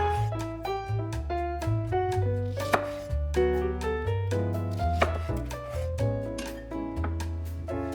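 A knife halves Brussels sprouts through the core on a cutting board, producing a series of close, distinct cuts and board knocks over gentle background music.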